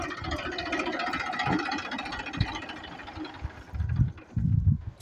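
A tractor engine labours while pulling a two-disc rotating plough through a field, giving a low rumbling drone with knocking, rattling pulses that grow heavier near the end.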